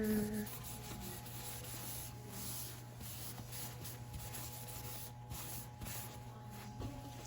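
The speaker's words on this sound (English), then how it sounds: "I'm just gonna just wax this in, if you guys can see, just waxing that on, all over" Wax is rubbed onto a wooden coffee table leg with a rag, a faint, continuous scratchy rubbing with a steady low hum beneath, quiet and close.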